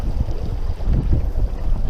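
Strong wind roars and buffets close to the microphone, a steady low rumble with gusty surges and no voices.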